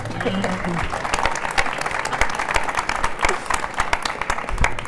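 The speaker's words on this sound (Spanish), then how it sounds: "creo que este testimonio de Rosa se merece un aplauso, sinceramente." A crowd at a colloquium claps steadily for several seconds, with dense, sustained applause.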